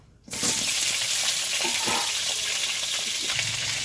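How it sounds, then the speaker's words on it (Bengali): Sliced pointed gourd dropped into hot mustard oil in a heated kadai, setting off a sudden loud, close sizzle that keeps up as a dense, steady crackle of frying. "এবার এই সর্ষের তেলের মধ্যে কেটে রাখা পটলগুলো দিয়ে দেবো।"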